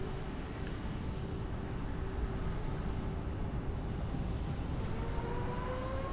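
EasyJet airliner at Lisbon airport in Microsoft Flight Simulator 2020: a steady, broad engine roar with a low rumble and a faint whine holds evenly throughout and never fades.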